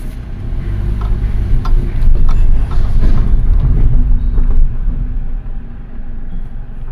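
A Mitsubishi Colt Plus pulls away from a standstill, with a steady close engine rumble and road noise building for several seconds and then easing slightly toward the end.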